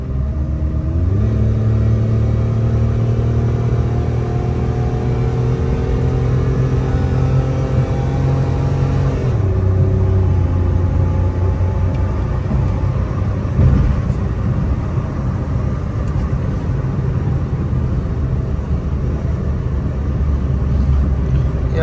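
A Suzuki Alto 660cc automatic drives along at about 50 km/h with the air conditioning running, its small engine humming steadily with rising and falling tones as it pulls through the gears, a continuous near rumble with no talking.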